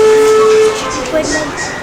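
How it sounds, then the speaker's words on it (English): A steam train's whistle sounds one steady, loud blast beside a camping retreat, then fades into hissing and rumbling rail noise. "Watch, here comes the train."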